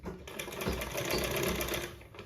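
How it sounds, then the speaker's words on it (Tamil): A sewing machine stitches the cross piece on a blouse neck, running as a fast, even rattling hum that ramps up, holds steady for about two seconds and slows at the end, close by with no talking. "அது மேலே தையல் போடுங்க"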